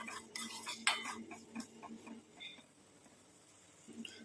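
A spoon stirs a turmeric powder mixture in a bowl, giving soft scraping and a few sharp clinks of metal against the dish, close and fairly quiet, with some light background noise.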